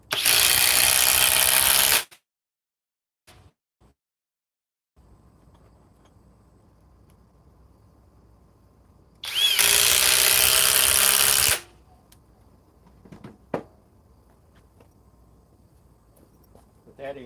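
A Flex Quick Eject impact driver with a 3.5 stack lithium battery hammers away in two loud, harsh bursts of a couple of seconds each, separated by quiet stretches with faint clicks and handling noise.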